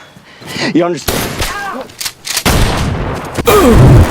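Sharp, loud gunshot cracks ring out among dramatic voices and noise, several bursts spread across the moment.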